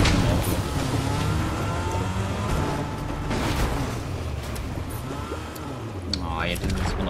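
A car drives nearby in the video game Fortnite, its engine droning and shifting under someone talking in German over game background noise.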